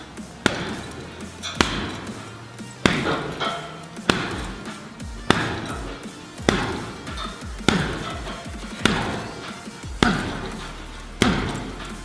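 Punches land on a heavy bag in a slow, steady series of about ten loud thumps roughly a second apart, each followed by a short rattle of the bag, close and without talk.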